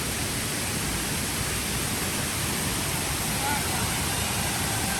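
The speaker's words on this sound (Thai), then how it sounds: "อันนี้ก็คือน้ำตกชั้นที่หนึ่งลานสะพานเชื่อมรัก" Broad, constant roar of rushing water at the first tier of Kroeng Krawia waterfall in Sangkhla Buri, Thailand, loud and steady with no break, a faint voice buried underneath.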